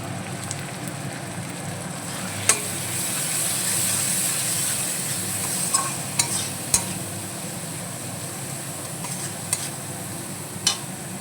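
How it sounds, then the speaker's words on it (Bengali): Ginger, chilli, garlic and whole cumin with salt and turmeric frying in a pan for a fish dish, a steady soft sizzle with a few sharp clicks of stirring scattered throughout, no talk. "ভালো করে মশলা কষিয়ে নেবো"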